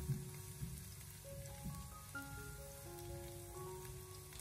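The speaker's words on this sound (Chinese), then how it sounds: "下翘的姜和蒜开小火给它翻炒一下" Ginger and garlic stir-fry over low heat in a wok, giving a soft, steady sizzle and crackle that stays faint throughout, with gentle tonal background music playing underneath.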